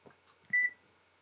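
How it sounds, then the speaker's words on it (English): A Panasonic Lumix camera self-timer gives a single short, clear electronic beep during its countdown, with faint handling noise before and after. "So we've got that nice countdown timer,"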